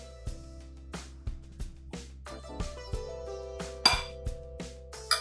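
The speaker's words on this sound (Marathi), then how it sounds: "आता हे सगळं व्यवस्थित मिक्स करून घेऊया" Lemon pickle being stirred with salt and lemon juice, a utensil clinking against the container in a steady series of sharp taps, roughly one per second, with no talk.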